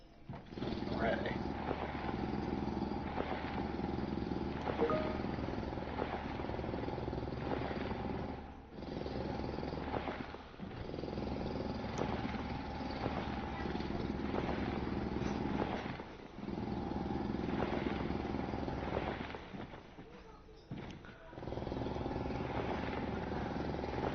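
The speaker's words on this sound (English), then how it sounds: "I figure I'll start drilling over to the ignum" Drilling machinery in the video game Foundry gives a steady, loud mechanical drone with a low hum and rumble, broken by short gaps roughly every seven seconds.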